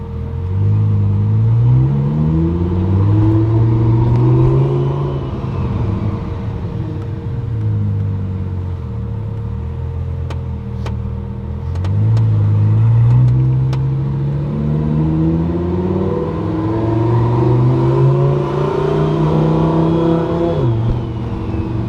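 A Tesla car drives along with a window partly open, giving a steady loud rush of road and wind noise and a whirring drivetrain tone that rises and falls through gentle speed changes.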